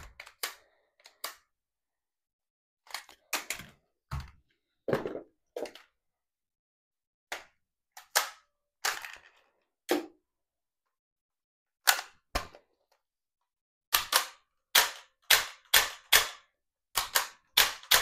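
Gold Eagle Deadpool toy pistol snaps off sharp cap-gun-like shots, single pops and quick bursts of two or three scattered irregularly across near silence, close and crisp with no talking.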